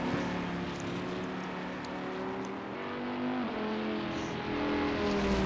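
Video game race car on a timed lap at Spa, the engine droning steadily with slowly shifting pitch as it holds revs, moderately loud and continuous with another car audible behind and no talking.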